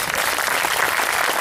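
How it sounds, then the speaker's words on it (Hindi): A crowd at a spiritual discourse on the Ashtavakra Gita claps steadily and loudly, a dense, even wash of applause from many hands with no voices over it. "खुद के लिए ताली बजा सकते"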